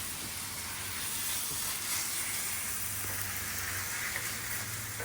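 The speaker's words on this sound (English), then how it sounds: "Now I'm gonna add my beautiful fire roasted tomatoes." Fire-roasted tomatoes sizzle steadily in a paella pan, a continuous broad frying hiss with a low rumble beneath, even in loudness throughout and with no talking.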